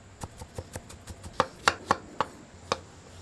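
A knife chops onions on a cutting board for Mexican-style burger toppings, about a dozen crisp, close knocks in an uneven rhythm, a few louder strikes in the middle, with no talking.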